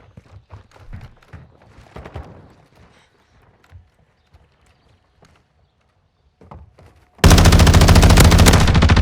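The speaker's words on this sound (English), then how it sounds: "I'm taking fire!" Gunfire in Call of Duty Vanguard: scattered soft shots and footstep-like clatter, then a loud, dense sustained burst of automatic fire filling the last two seconds.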